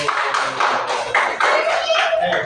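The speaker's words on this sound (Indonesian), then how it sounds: "Beri tepuk tangan untuk kelompok 1." A classroom group claps for the first presenting group, a dense burst of hand claps running steadily throughout, loud and close.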